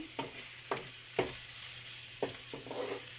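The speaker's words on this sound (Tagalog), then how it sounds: "Tapos halu-haluin." Malunggay and century tuna are stirred in a sizzling pan, several distinct scraping strokes spaced irregularly over a steady, quiet frying hiss.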